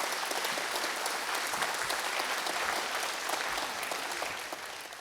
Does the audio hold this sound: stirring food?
no